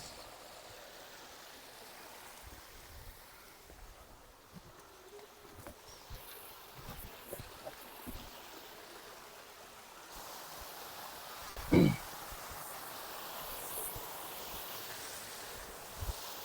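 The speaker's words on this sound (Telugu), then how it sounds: "ఇది కూడా ఒక type of fall water fall అండి" Steady rushing water from a waterfall flows continuously at a moderate distance, with a brief louder knock partway through.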